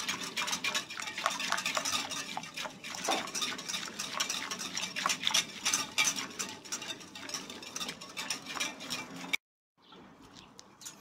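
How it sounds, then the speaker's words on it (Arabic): Jelly stirred in a pan on the heat until it dissolves, a rapid, continuous scraping and clinking of a utensil against the pan, close and busy, stopping abruptly near the end. "نظل نحرك ايدنا لحد ما يذوب الجلي."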